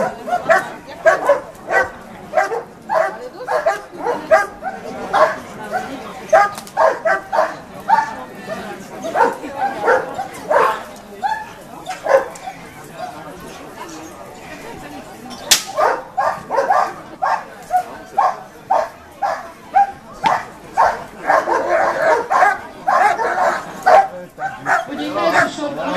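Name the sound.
dogs barking during a dog training demonstration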